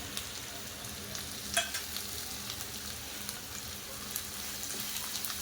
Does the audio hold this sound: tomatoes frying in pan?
yes